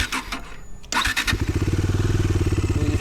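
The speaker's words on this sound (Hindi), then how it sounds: "तो इस तरह से कुछ ये मोटरसाइकिल चालू होती है।" A Bajaj Dominar 250 motorcycle engine cranks briefly and fires, then settles into a steady, rapid idle pulse, loud and near, with no talking.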